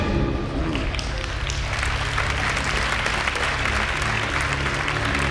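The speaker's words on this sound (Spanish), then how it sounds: "Aplaudís de los nervios, ¿no?" Studio audience applause during a late-night comedy monologue, a dense steady clapping that fills the whole stretch, loud and close, with a low musical bed underneath and no talk over it.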